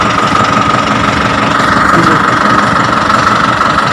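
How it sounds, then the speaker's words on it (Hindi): A tractor engine runs with its PTO shaft rotating, giving a loud, continuous mechanical drone with a knocking, vibrating texture and a steady hum throughout. "जब ट्रैक्टर चलता है तो पीटीओ स्पीड भी पीटीओ भी घूमता है।"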